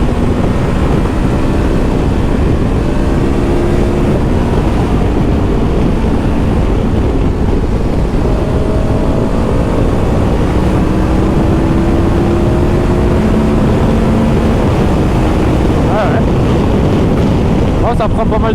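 A 2023 KTM 1290 Super Adventure S motorcycle accelerates hard, its engine note climbing steadily in pitch, close and loud beneath heavy buffeting wind noise throughout.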